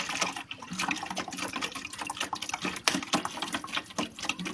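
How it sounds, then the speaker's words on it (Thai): Fish sauce pours and splashes steadily into a container for pickling field crabs, a continuous wet gushing with small irregular surges, close by and with no talking. "เทน้ำปลาลงพี่น้อง"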